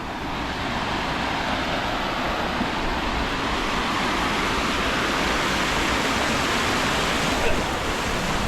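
A village river flows in a loud, unbroken rushing wash, a dense steady roar of moving water close by.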